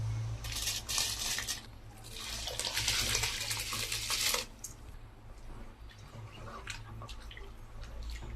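Soaked rice for chicken dum biryani tipped into a pot of water, giving a close, splashy pour with bursts of trickling and dripping water over a steady low hum.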